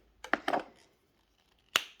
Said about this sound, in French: Donc j'ai tout mon assortissement de ciseaux